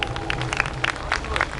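Audience at a Sai bhajan evening in Lucknow clapping together, a steady bright crackle of many hands with a few louder bursts, close and continuous.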